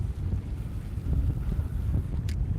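Strong wind buffets the microphone outdoors during a rainy pike fishing outing, a continuous low rumbling roar that gusts steadily throughout with no voices.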